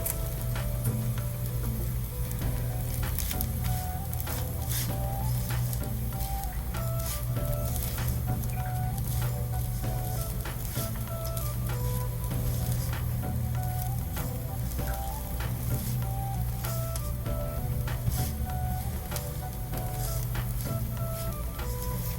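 Curry leaves sizzle steadily in hot oil for Maharashtrian-style poha (aval), a continuous dense crackle with faint clinks, no voices.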